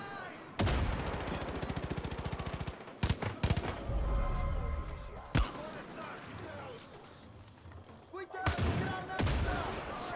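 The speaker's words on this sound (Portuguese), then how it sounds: "Explodiu o cara lá em cima" Explosions and gunfire in Far Cry 5 come as several sharp, heavy blasts spread across the clip, with a rapid rattle early on and voices talking between the bursts.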